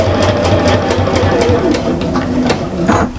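A sewing machine runs loud and close, a steady humming drone with light rhythmic ticks as a single back stitch is made while sewing a double-sided Christmas cushion, ending in a brief clunk.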